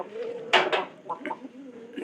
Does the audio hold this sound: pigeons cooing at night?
yes